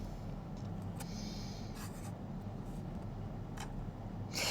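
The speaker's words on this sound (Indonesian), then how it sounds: "Aku akan mengetik dulu guys." Faint keyboard typing during an evening livestream, soft intermittent clicks and taps over a steady low room rumble, with a brief louder rustle at the end.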